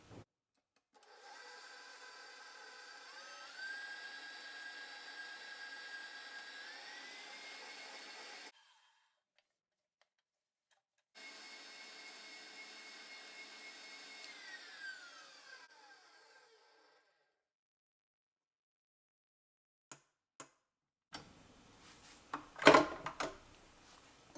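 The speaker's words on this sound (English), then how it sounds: "So I'm going to turn this on high. It's going to be noisy." An electric mixer whirs steadily at high speed beating buttercream icing for several seconds, stops, runs again with a slight pitch change, then a few clatters and knocks follow.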